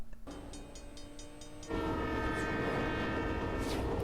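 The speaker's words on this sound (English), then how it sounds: "Oh, because there's a train coming?" A movie train draws near, its steady rumble building and then swelling abruptly into a loud, sustained blast of the horn that holds to the end.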